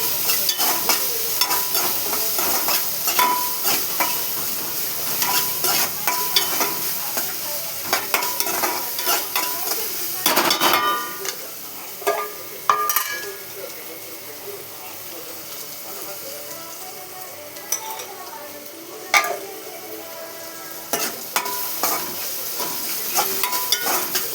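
Curry leaves crackle and sizzle in hot oil, a steady close frying hiss with stirring scrapes and occasional sharper pops throughout.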